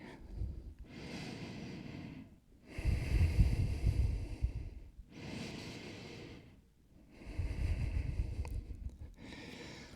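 Slow, deep breathing in a yoga child's pose, close and clear: long breathy inhales and exhales alternate in a steady rhythm of about four breaths, with no talk.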